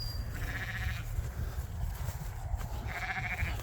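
Sheep and newborn lambs at lambing time, a ewe with four lambs, give two separate bleats, nearby and clear over steady outdoor rumble.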